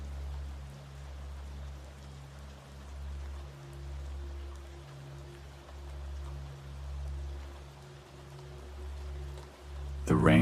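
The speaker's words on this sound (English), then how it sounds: "The rain above and the river below join together, weaving a harmony that cradles your mind." Soft, continuous rain hiss falls over a river at night beneath a low, steady droning hum, with a brief louder burst right at the end.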